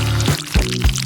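Liquid poured over a dish during a kitchen cooking challenge, heard as three short splashing gushes in quick succession with a steady low hum behind them.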